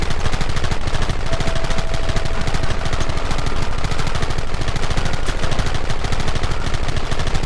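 Gunfire in a Red Dead Redemption shootout: a dense, relentless volley of rapid shots that stays loud and steady throughout, with no pauses and no talking.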